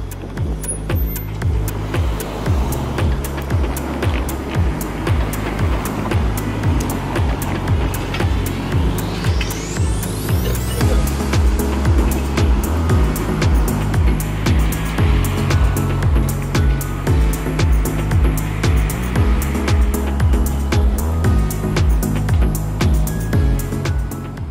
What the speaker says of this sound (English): Here's number 4500 arriving at Bathurst and Queen